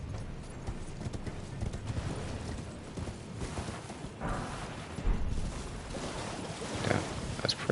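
A horse galloping in the video game Elden Ring: a steady, fairly quiet clip-clop of hoofbeats running continuously over soft game ambience, with no voices.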